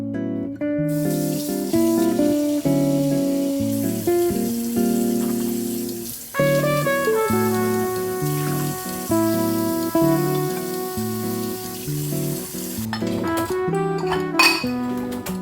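Dishes are washed in a full kitchen sink, with running tap water, clinking plates and cutlery over a steady rush, loud and close throughout.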